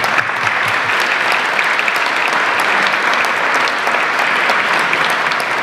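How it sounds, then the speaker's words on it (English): An audience claps steadily for a discussion panel at an evening event on multi-modal transportation in Central Arkansas, a dense, sustained round of applause at even loudness throughout with no talk over it. "let's give a nice round of applause to our panelists"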